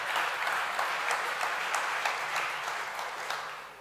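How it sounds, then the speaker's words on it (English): An audience at a 2018 newspaper publishers' conference claps, a steady sustained patter of many hands from a crowd in the hall, moderately loud with no voices over it. "You will get applause for that"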